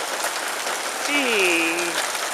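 Hail hammering a house roof in a June rain storm, a dense patter of hard strikes under a voice, with a short rising whistle-like tone partway through.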